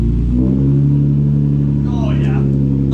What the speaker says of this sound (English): The boys are making a custom exhaust for James's car, which I think is a straight pipe